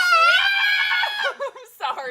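A person imitates a cat's meow in a long, loud, drawn-out screechy wail, followed by a few shorter yowling meows, close to the listener and with no other sound around them.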